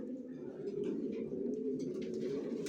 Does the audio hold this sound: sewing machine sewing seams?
no